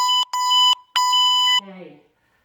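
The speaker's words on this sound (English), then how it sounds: "That was my 30-minute timer done" A 30-minute timer alarm sounds three loud, piercing electronic beeps in an uneven rhythm, each one longer than the last, then stops as a voice starts talking.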